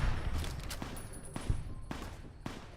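Gunfire in Fallout New Vegas, an enemy gunman firing on the player: several sharp shots crack at irregular intervals over a low rumbling backdrop, fairly faint overall.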